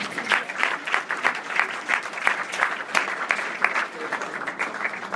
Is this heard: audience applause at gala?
yes